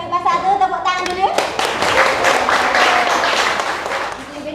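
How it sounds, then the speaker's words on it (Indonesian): A high school chemistry class claps together after chanting a class cheer. A voice rings out first, then a burst of quick, crowded hand claps follows and carries on to the end. "Tepuk tangan dulu"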